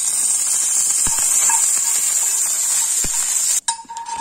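Mustard seeds, chana dal and urad dal fry in hot oil, giving a steady bright sizzling hiss with a few scattered pops and clinks. The sound shifts abruptly near the end.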